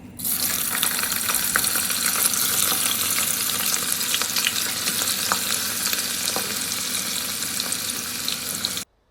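Onion slices dusted with flour and corn flour fry in hot oil with a strong, steady sizzle. The bubbling crackle lasts about nine seconds and no one speaks.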